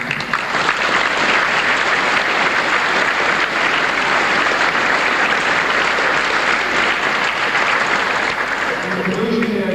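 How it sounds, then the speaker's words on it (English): A crowd at a recruit platoon graduation ceremony applauds for about ten seconds, dense and steady clapping filling the room before it begins to taper at the end. "give them a round of applause"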